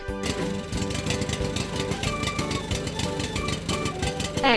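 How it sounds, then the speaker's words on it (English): An excavator engine runs with a loud, steady, rhythmic clatter and rumble that continues without pause for several seconds, with no voices. "Excavator truck."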